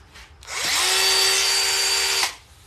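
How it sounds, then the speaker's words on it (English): A Bosch Nano Blade mini chainsaw whirs up, holds a steady high-pitched run for nearly two seconds, then stops, loud and close with no talk. "It's a mini chainsaw. It's so tiny. It's the Bosch Nano Blade."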